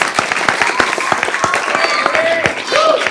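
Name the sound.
round of applause for the director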